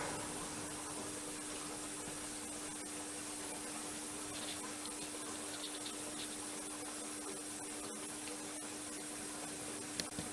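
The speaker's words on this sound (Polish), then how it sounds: "Zmywarka pobiera wodę, zaraz zobaczymy czy wystartuje pompa myjąca." Steady hum and rushing water as an Ariston Indesit dishwasher fills during an F5 error repair after a clogged hose was cleared, a constant even drone with a faint tonal whine and no voices.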